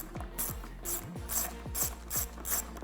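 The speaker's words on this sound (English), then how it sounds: "we can come back with our ratchet, get them all tightened down" A hand ratchet clicks in quick, evenly spaced strokes, close and quiet, while tightening 10mm headlight bolts into a plastic headlight on a Jeep JL Wrangler.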